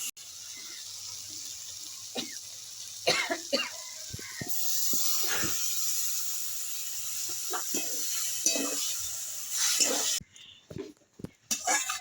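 Mustard paste and water going into a frying pan for a spicy fish and banana-stem dish, giving a broad steady sizzle and hiss with intermittent clinks and stirring scrapes, then a quieter patch near the end.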